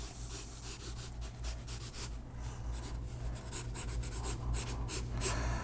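Pencil drawing on paper while sketching caricatured animal characters, a continuous close scratching and rubbing with rhythmic strokes, steady and fairly quiet with no talking.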